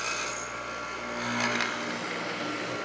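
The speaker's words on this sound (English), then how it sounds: "When you're ever using a hollow chisel mortiser, you don't want to do a partial hole." Hollow chisel mortiser boring a mortise in wood for a double inline mortise and tenon joint, a steady loud machine whir and grinding cut that swells slightly midway, no voices.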